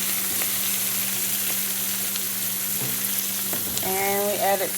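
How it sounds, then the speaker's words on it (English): Collard greens with stems sautéing in a pan, a steady close sizzle and crackle throughout, with a few clinks and a brief squeaky scrape near the end. "we put them in a pan and let them cook down"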